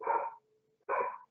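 A dog barks twice, two short, fairly close barks separated by a brief pause, with a faint tone lingering between them.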